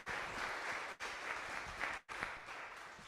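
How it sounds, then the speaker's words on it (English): A roomful of listeners applauds after presenters share their work at an afternoon session, a steady, moderately faint wash of clapping with two brief dips. "let's give them a round of applause"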